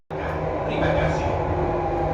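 A Jakarta MRT underground train runs through a tunnel about 30 metres below Jalan Thamrin, its loud, steady rumble and hum starting abruptly and carrying on without a break.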